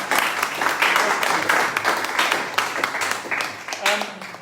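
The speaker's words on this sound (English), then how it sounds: "I think a round of applause." A round of applause from a sports club gathering fills the space steadily for several seconds, dense and fairly loud, with a few voices mixed into the clapping.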